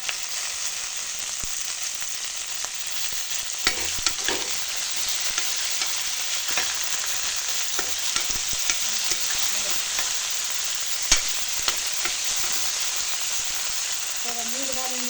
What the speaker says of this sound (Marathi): चला तर आता टमाटर टाकूया.